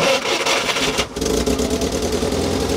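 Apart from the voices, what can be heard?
UAZ-452 Buhanka Soviet 4x4 van engine starting and idling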